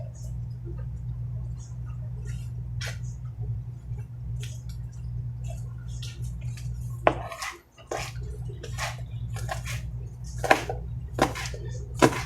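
A knife chops green onions on a cutting board in a kitchen, giving irregular crisp taps that come in quick clusters over a low steady hum, close by.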